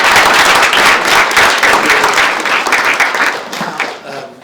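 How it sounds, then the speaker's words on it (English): An audience at a legal workshop breaks into sustained applause, a dense wash of many hands clapping that holds steady and then tapers off near the end, with no speech over it. "I think we should all give a big round of applause to Stephen Keim KC."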